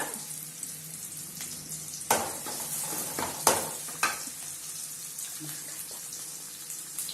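Chopped onions frying in a kadai for fish curry give a steady sizzle with occasional stirring scrapes and clatters, moderately close, running continuously throughout.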